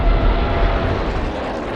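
Fleets of WWII bomber planes on bombing raids drone overhead in a loud, dense low rumble of aircraft engines that stays steady and close with no speech.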